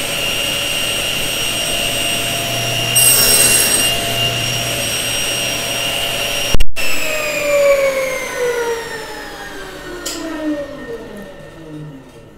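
Table saw crosscutting a wooden board on a crosscut sled, with a loud broadband whine and a sharp cut peak near the middle, then the blade spinning down with falling tones.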